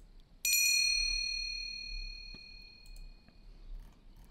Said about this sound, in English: I like to do the bell sound effect.